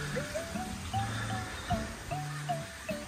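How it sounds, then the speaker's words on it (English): Repeated short bird chirps over a faint, steady wash of falling water from rice terraces and a waterfall in Bali, fairly quiet with no talk. "You hear the birds in the background and waterfall."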